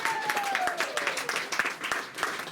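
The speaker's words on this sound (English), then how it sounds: "Give Kelly a round of applause" Wedding guests applaud the bride at a wedding in Italy, a dense run of close and scattered claps with a voice talking faintly underneath.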